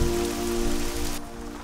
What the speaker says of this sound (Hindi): न्यूयॉर्क में अचानक बारिश शुरू हो गई?